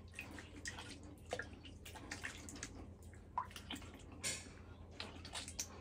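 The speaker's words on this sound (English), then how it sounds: "I'm gonna get a full rinse here." Water splashes and trickles in short bursts during a rinse after a straight razor wet shave. The uneven, faint splashing and dripping repeats close by at a sink, with no voices.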